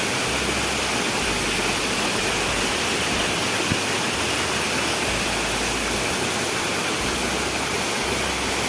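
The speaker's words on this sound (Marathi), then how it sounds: "किती उंच काढा आहे पाणी बघा" A tall waterfall in the Konkan countryside roars in a steady, dense rush of falling water that fills the whole clip without letup, with no voices.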